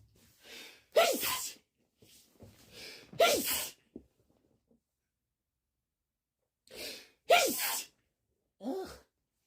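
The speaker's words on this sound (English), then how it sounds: "I hate sneezing." Sneezes from a person with allergies, two sharp bursts early, then a gap and two more, each preceded by a quick inhaling gasp, close and loud in an otherwise quiet room.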